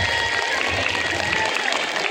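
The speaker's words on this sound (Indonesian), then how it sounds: "tepuk tangan dulu buat SDIT Ulil Albab" Audience applause at a school performance event for SDIT Ulil Albab, a steady wash of clapping from a crowd with faint voices mixed in, continuous and moderately loud throughout.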